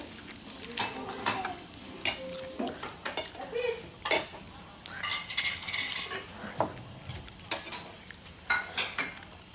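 Garlic stirred and cooked in a pan, with a utensil scraping and clinking against the metal in irregular strokes over a faint sizzle, close and moderately loud.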